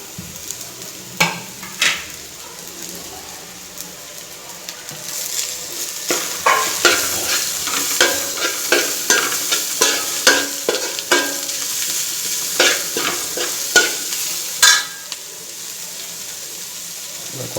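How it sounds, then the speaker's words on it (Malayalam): Onions, crushed shallots, ginger and garlic fry in a pan for a pepper chicken curry, a continuous sizzle broken by a run of sharp scraping stirs and clacks of the spoon against the pan, close up and alone. "നമുക്കിതിലേക്ക് ചതച്ച് വെച്ച ചെറിയ ഉള്ളി, ഇഞ്ചി, വെളുത്തുള്ളി കൂടി ചേർത്ത് കൊടുക്കുക"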